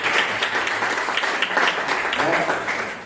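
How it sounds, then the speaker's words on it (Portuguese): A church congregation applauds a couple in steady, dense clapping that fills the room at moderate loudness, continuing evenly throughout with a few voices mixed in. "dá uma salva de palmas para esse casal abençoado aí"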